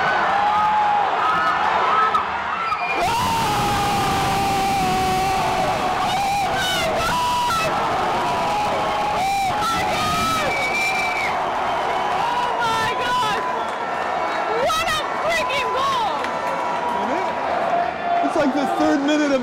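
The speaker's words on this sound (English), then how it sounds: "This crowd is electric." A packed football stadium crowd at a Barcelona match roars and chants continuously, loud massed voices with surging cheers and whistles filling the whole stretch, while a nearby voice talks over it at times.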